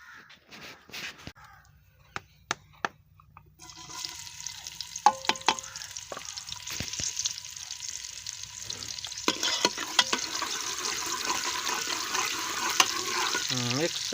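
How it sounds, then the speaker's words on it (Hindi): Onions frying in a pan for biryani, becoming golden: after a few sharp taps at the start, a steady, fairly loud sizzle and crackle builds and runs on, with crows cawing in the background. "प्याज गोल्डन कलर आने तक भुनाई करेंगे।"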